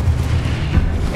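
A Confringo blasting spell explodes in Hogwarts Legacy as one sustained deep, rumbling boom that stays heavy and loud throughout the short moment, with no voices.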